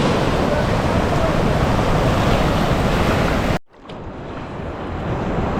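Ocean surf at Impossibles Beach in Uluwatu, Bali roars as a loud, steady wash with wind buffeting the microphone, cutting out briefly before the rumble returns more softly.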